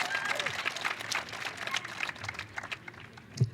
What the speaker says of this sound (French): Faites entendre votre voix, faites entendre vos applaudissements